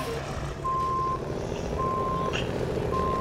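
Truck reversing alarm in a video game, three steady evenly spaced beeps over a loud low diesel engine rumble, close and clear.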